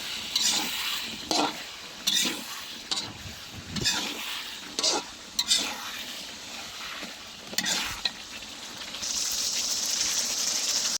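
Raw mango and tomato are stir-fried in a pan for a tengra fish curry. Repeated scraping stirs sound close over a constant sizzle, and a louder hissing rush swells near the end.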